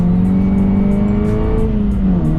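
The 370 hp engine of a Volkswagen Polo R WRC with a Stage 2 tune revs loudly and steadily, its strong droning note holding, then dipping slightly as the revs settle, with faint crackles over the top.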